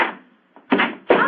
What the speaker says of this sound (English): Someone's opening the door.